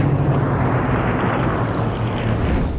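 A Hawker Hurricane aircraft flying at the Duxford airshow, a steady loud piston-engine drone with broad rumbling roar and no pauses.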